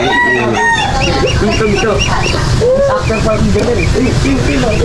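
Chickens cluck busily and a rooster crows amid a loud, crowded farmyard din, with overlapping calls throughout.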